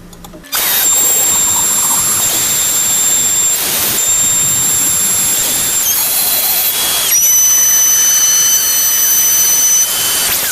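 A CNC machine runs a cutting cycle on tool caddies, giving loud continuous high-pitched spindle whine and cutting noise with steady tones that shift pitch a few times as it moves, close and alone.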